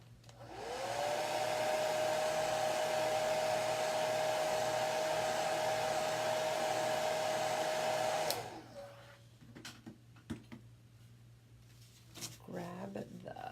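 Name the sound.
hair dryer blowing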